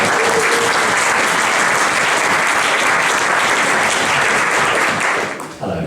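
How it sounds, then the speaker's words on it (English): An audience at a talk in Manor Barn, Bexhill, applauds a speaker with steady, dense clapping that fills nearly six seconds before tapering off at the very end. "So can we please give a huge round of applause for Matt Homewood"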